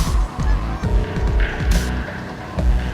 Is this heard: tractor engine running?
no